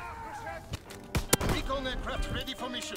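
Sniper rifle shots ring out in Call of Duty WW2 during online play, a couple of sharp cracks followed by in-game noise and a brief echo, close and moderately loud.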